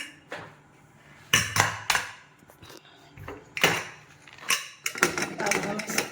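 Sharp knife strokes chopping ginger on a cutting board come in short bursts, a few quick chops at a time, with kitchen clatter and a voice talking in between.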